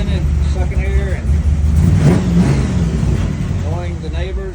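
A 1947-54 Chevy five-window pickup truck engine idles with a deep, steady rumble, then revs up and settles back down in a few swells. The sound is close and loud throughout, and faint voices may sit underneath it.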